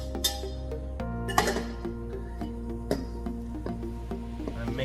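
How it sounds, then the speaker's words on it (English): A spoon stirs a warm Guinness and milk mix, clinking several times against the container over a steady low hum, with soft scraping between the sharp metallic taps. "Give it another little stir so you can see that it mixes all up there"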